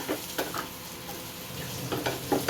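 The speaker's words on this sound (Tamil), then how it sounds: "ஆமாம், இப்போ வதக்கினே அது. இப்போதான் மசாலா நல்லா ஃப்ளேவர் ஆகும்." Masala sautéing in oil in a home kitchen pan, a quiet steady sizzle with a few light scrapes and taps of stirring.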